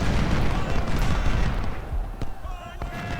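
Battlefield gunfire from the Battle of Chickamauga in Ultimate General: Civil War, a dense rumbling roll of musket and artillery fire that thins into scattered separate shots, with a voice talking over it.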